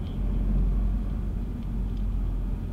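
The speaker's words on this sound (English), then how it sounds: "Back into second gear now because it'll be just a bit too high for it." Car engine in second gear during a driving lesson, a low steady rumble with no change in pitch, close and continuous, no talk.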